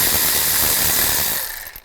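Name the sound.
ratchet with 10mm socket removing ignition coil bolt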